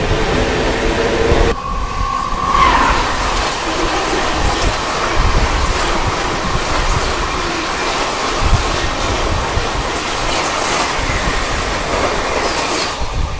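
Passenger train on the Trichy to Chennai route near Villupuram, a steady loud rumble of wheels on rails with rattling carriages and a brief squeal early on, continuous throughout with no talk.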